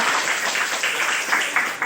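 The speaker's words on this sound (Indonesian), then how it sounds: "Oke, tepuk tangan." A classroom of students claps together during an Indonesian language lesson, a brief burst of hands with a few sharper, individual claps standing out near the end.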